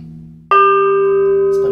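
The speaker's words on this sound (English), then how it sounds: "The smaller gong down here is either called mong or tong, depending on the style." A small Balinese gamelan gong, the mong or tong, struck once with a clear metallic onset and a steady, ringing tone that sustains without fading, following a quieter lower hum.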